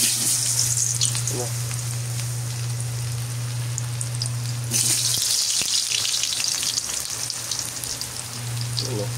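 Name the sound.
garlic and onion frying in hot oil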